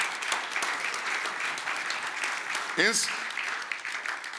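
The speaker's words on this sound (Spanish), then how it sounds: "Dale ese aplauso al Señor fuerte" A church congregation applauds in a steady, dense wash of clapping that fills the whole stretch, while a preacher's voice speaks over the top of it.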